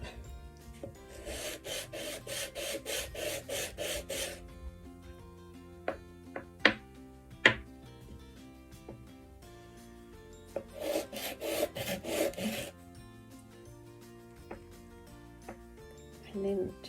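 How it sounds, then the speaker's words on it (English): A clay miniature house is rubbed on a wet sanding pad in two bursts of fast, rhythmic rasping strokes, close and fairly loud, with scattered taps and small clicks in between. "So I've wet my sanding pad, and I just simply do that until there's no wobble."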